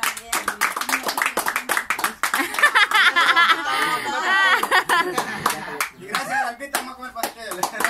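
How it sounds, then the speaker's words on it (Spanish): Scattered hand clapping mixed with laughter and lively chatter from a small group at a cake-cutting celebration, people talking and giggling throughout as the claps come in uneven bursts. "Otro aplauso."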